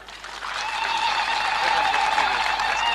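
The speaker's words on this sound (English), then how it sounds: "I think the people of Tororo should clap for you." A crowd in Tororo, Uganda, claps at the 25th coronation anniversary of the Kwar Adhola king, the applause swelling from a softer start into a full, sustained round with faint voices and a high cry mixed in.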